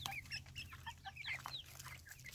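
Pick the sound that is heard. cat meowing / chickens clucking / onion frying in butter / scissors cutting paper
chickens clucking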